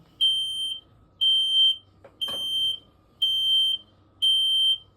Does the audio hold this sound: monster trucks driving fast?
no